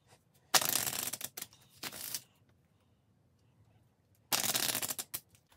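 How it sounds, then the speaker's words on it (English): A deck of playing cards is shuffled three times in quick riffling bursts, close and crisp, separated by brief pauses of near silence. "I shuffle up a deck of cards"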